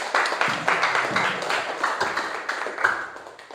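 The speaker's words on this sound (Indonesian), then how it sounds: "berikan tepuk tangan ke Andika" A classroom full of students claps for Andika after his group's reading, a dense, steady burst of close applause that carries on for several seconds with no talk over it.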